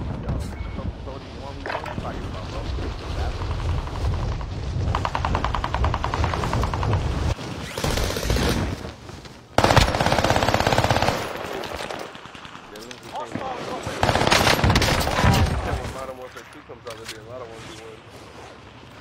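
Rapid automatic gunfire rattles almost nonstop in a first-person shooter game, with loud bursts and brief lulls, dense and close over a busy game soundscape.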